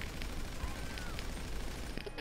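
Gunfire in GTA 5 Online, a dense, continuous burst of rapid game shots packed into a couple of seconds, fairly loud and steady throughout.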